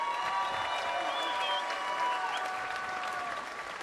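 Crowd applause and light cheering for the finalist dancers at the Strážnice folk festival's verbuňk dance competition: sustained even clapping from a large audience, heard at a moderate distance with no speech on top.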